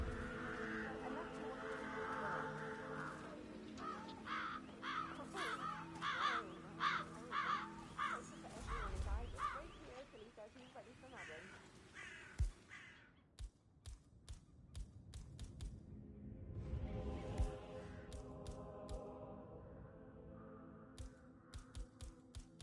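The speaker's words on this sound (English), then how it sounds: "It's the birds. They're making a racket, droppings everywhere." Crows caw repeatedly in the Hitman: World of Assassination game, a noisy flock of harsh calls with scattered taps and thuds, at times under speech and game ambience.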